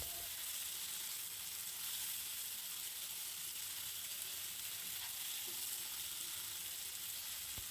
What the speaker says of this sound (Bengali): মশলাগুলোকে ভালোভাবে কষিয়ে নিয়ে মাছগুলোকে দিয়ে হালকা নেড়ে চেড়ে কিছুক্ষণের জন্য ঢাকনা দিয়ে ঢেকে রাখবো।